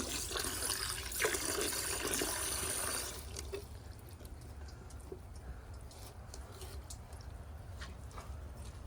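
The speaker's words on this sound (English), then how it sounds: "I'm going to overfill the tank on this toilet" Water rushing into a Glacier Bay high-efficiency toilet tank as it overfills, a steady hissing fill that is louder for the first three seconds and then settles into a quieter, continuous trickle and gurgle.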